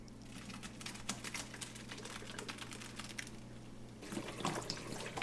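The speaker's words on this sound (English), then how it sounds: "now we're going to strain the noodles" Cooked Kamut noodles are strained as the water drains away in a faint, continuous trickle broken by small clicks and patters, growing slightly louder near the end.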